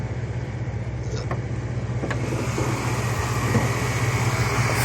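A 1997 Chevrolet C1500 two-wheel-drive pickup's 5.0 liter Vortec V8 runs steadily with the hood open, a continuous close engine hum with a low throb and no talking.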